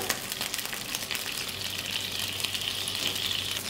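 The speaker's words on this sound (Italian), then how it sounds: "aggiungiamo anche stavolta un po' di acqua sulla pentola" Water poured into a hot pan while cooking Japanese pancakes, a loud, close hissing sizzle and gushing splash that holds steady for a few seconds with no talk.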